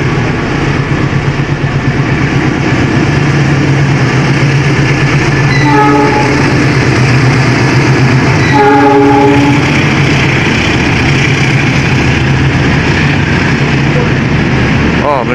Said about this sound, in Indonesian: melintas langsung kereta api Argo Merbabu